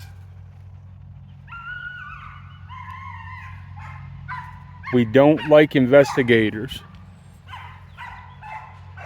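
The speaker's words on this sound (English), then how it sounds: "that dog starts going crazy, which he never goes crazy." A neighbor's dog barks in a rapid burst of loud, close, excited barks, preceded and followed by quieter sounds, while a person speaks at night.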